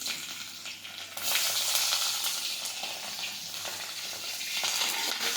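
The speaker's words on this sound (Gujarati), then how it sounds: "તેલ છે તે ગરમ થઈ ગયું છે હવે આપણે તેમાં રાઈ અને જીરું નાખી દઈશું" Mustard seeds and cumin hit hot oil in a pan while cooking chilli kadhi, setting off a sudden loud, steady sizzle that crackles and spits continuously close by with no talking.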